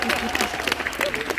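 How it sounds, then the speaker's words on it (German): An audience claps at a concert, producing a short burst of scattered, fairly close applause with crowd murmur mixed in. "Applaus für Ilja und sein Glas Wein"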